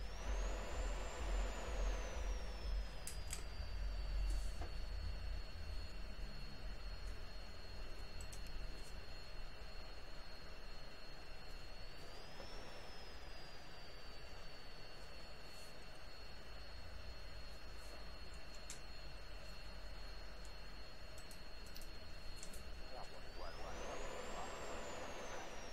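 A jet engine spools up and runs in the Falcon BMS flight simulator, a steady loud whine with a broad roar beneath it, the pitch sliding and swelling twice before settling, heard alone.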